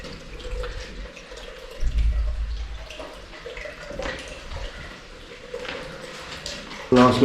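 Water drips and runs in an old workhouse cellar, a thin trickle with scattered splashes over low rumbling handling noise, with a louder burst of running water near the end.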